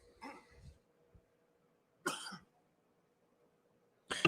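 Three separate coughs, spaced a couple of seconds apart, close to the microphone, with quiet pauses between them.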